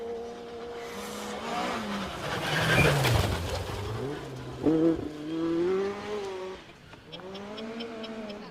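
A Mark II rally car racing on a forest stage, its engine loud and revving up and down through the gears as it passes close by, with no talk over it.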